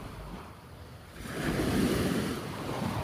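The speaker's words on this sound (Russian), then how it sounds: "Море." Winter sea waves break on the shore at Torrevieja, Spain. The surf swells from a quieter wash into a fuller, steady roar after about a second, with wind buffeting the microphone throughout.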